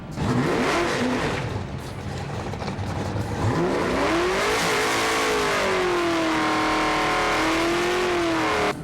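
A race car sits with its front brakes locked while the engine revs hard through first, second and third gear, spinning and heating the rear tires; a loud, continuous engine roar with rising and falling pitch and tire noise.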